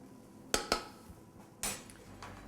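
A spoon knocks against a pot while white chocolate is stirred into heated cream, giving a few sharp, quiet clinks and taps over a low room hiss.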